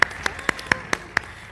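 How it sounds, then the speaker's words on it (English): Sparse, irregular hand claps from an audience, about six sharp separate claps over a short span, loud against a quiet room, more like a few people clapping than full applause. "So let's give a good round of applause to all the men who make us important."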